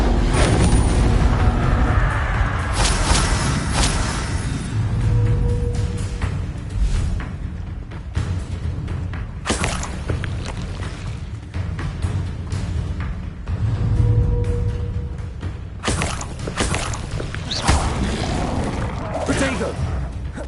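Incendio fire spell cast in a Harry Potter-style video game, a loud booming whoosh and burst repeated several times amid dense game effects, with a voice speaking over it.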